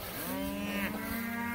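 Cattle on a pasture lane let out a single long, loud low moo close by, over a soft background hum.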